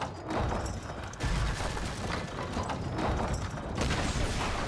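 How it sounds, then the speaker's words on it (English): Stone throwers bombarding towers in Age of Empires: repeated heavy thuds and crashing impacts in a dense, loud barrage that continues with brief lulls, with no talking. "we're in a good position to start taking out these towers with the stone throwers"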